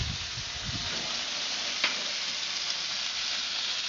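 A steak sizzles in a hot pan, a dense, continuous crackling hiss close by with a few small pops and a brief stir partway through, no voices.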